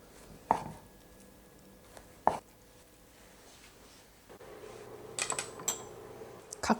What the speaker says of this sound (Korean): 계란말이도 썰어줄게요.